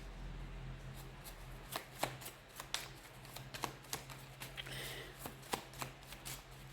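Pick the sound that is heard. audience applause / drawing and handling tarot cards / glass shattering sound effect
drawing and handling tarot cards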